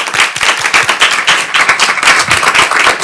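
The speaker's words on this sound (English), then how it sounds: "Please give a round of applause." Audience applause at a climate tech hubs convening at FIU, a dense, loud and steady patter of many hands clapping that fills the room throughout without voices.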